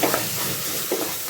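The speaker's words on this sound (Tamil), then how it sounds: "அடுத்தது நம்ம எடுத்து வச்சுருந்த கேஷ்யூ நட்டும் ட்ரை கிரேப்ஸும் போட போகிறேன்" Cashews and raisins stirred into a pot of mushroom biryani frying with coriander leaves; a steady close sizzle carrying two soft scraping stirs, one at the start and one near the end, with no talk.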